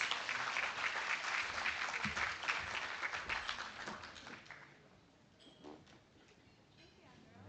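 Audience applause at a formal gathering welcoming the commander of the U.S. Pacific Fleet, dense clapping for about five seconds before fading into room murmur and a few scattered claps.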